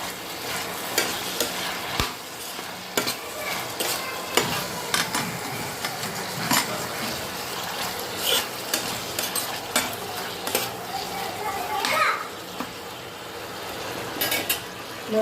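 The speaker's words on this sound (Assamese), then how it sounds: "ইয়াত ভালদৰে মই লৰাই দিম।" Chilli paneer being stirred in a sizzling pan after tomato ketchup goes in, with repeated spoon scrapes and knocks against the metal over a steady frying hiss, close up and with no one talking.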